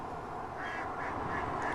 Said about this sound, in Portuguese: Olha, um monte de patinhos aqui nesse